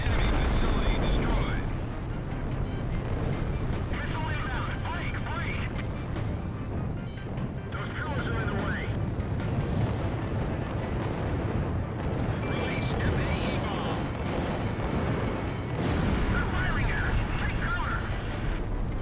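Flak guns pounding away in Ace Combat Zero, a continuous rumbling barrage of deep bursts and explosions with jet noise, sustained and loud throughout, with radio chatter and voices occasionally over it.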